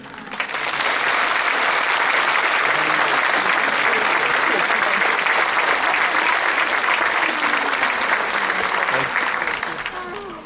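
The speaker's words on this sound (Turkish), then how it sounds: "Siz bana çalıyorsunuz alkışları" Steady, dense applause from an audience at a Kutlu Doğum Week poetry gathering swells quickly and holds at full strength for around ten seconds before dropping off.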